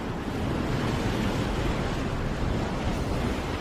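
Large sea waves churn and roar under strong wind out on open water during a fishing trip, a dense continuous wash with wind buffeting the microphone throughout.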